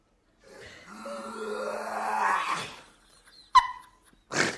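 A dog makes strange, drawn-out noises, a rising groaning, growling sound that builds over a few seconds. It then breaks off, followed by a sharp yelp and a short noisy burst.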